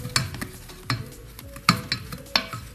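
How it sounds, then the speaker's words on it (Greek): Vegetable loukoumades dough is stirred in a pot on the stove, giving about four close, distinct scraping strokes at an even pace with a faint sizzle underneath and no talking. "Συνεχίζουμε το ανακάτεμα."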